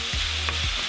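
Beef mince frying in a pan and being broken up, a steady loud sizzle with a couple of soft scraping stirs beneath it, close and alone.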